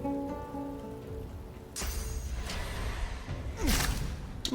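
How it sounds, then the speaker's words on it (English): A rain spell cast in the fantasy role-playing game Divinity: Original Sin 2 brings a steady hiss of rainfall that swells suddenly and keeps pattering, with a couple of whooshing sweeps over it. "Let's do a quick cheeky rain."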